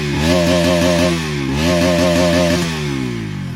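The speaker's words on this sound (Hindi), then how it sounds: "अगर मैं एनएस को स्टार्ट करता हूँ कि एनएस की साउंड कैसी है तो वो मैं आपको स्टार्ट करके सुनाता हूँ" A Bajaj Pulsar NS motorcycle engine idles and revs close up, a loud buzzy four-stroke note with regular firing pulses that rises in pitch during two short throttle blips.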